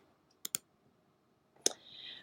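Computer mouse clicks while saving a file: a quick double click, then after a pause one more click followed by a faint soft whir, all quiet and close, with no talk.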